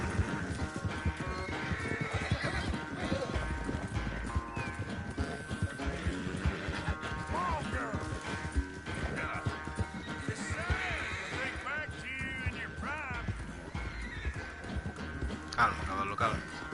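A horse gallops hard in Red Dead Redemption 2, with rapid drumming hooves, neighs and snorts over busy game sound, and someone talks throughout.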